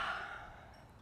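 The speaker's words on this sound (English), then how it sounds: "Take a deep breath." A single deep, airy breath drawn during a seated yoga session at a farmhouse, fading gently over about a second, close and soft with no talk.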